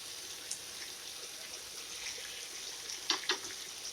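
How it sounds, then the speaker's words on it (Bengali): Pumpkin stalks frying with spiced potatoes in a pan: soft, steady low sizzle throughout, fairly faint, with a couple of brief sharper ticks near the end and no talk. "ডাঁটাগুলোকেও ভেজে নেব"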